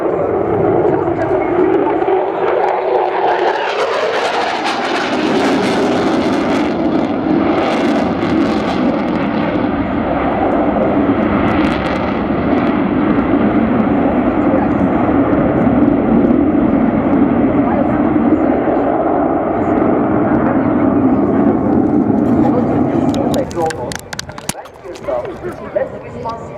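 A display aircraft at the RIAT airshow flies low and slow with its landing gear down, doing rolls, a loud sustained engine roar that swells and holds for a long stretch before thinning out near the end.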